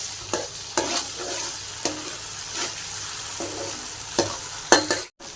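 Carrots with ginger paste stir-fried in a pan for gobi fried rice, a steady close sizzle broken by about eight sharp scraping strokes of a spatula at uneven intervals, no voices.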